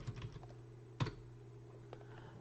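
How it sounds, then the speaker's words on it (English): Computer keyboard typing during a live stream, a few faint scattered keystrokes with one sharper click, no talking, over a steady low hum. "Because I'm typing and I'm not saying anything."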